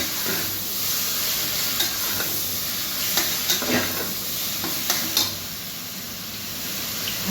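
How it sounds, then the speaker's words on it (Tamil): Tomatoes sautéing in a pan with salt for a roadside-style vada curry, a constant sizzle with scattered spoon scrapes and knocks against the pan, no voices. "தக்காளி நல்லா வதங்கணும்."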